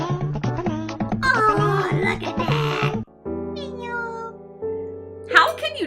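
A pet cat meows repeatedly at close range, several drawn-out plaintive cries mixed with a person talking and reacting excitedly.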